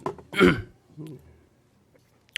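A man with a weeks-long cough clears his throat in one harsh, loud burst, then gives a shorter, softer rasp a moment later. It happens during a church sermon, with near silence after.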